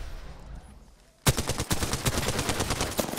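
Rapid automatic gunfire in Apex Legends, quiet at first, then a sudden burst of close, loud shots in quick rhythmic succession that keeps going to the end.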